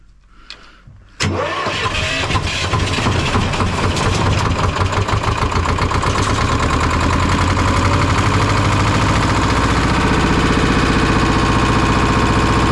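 A six-cylinder car engine, cooled down, cranks briefly, then catches and roars to life, settling into a loud, steady idle that runs on without a break.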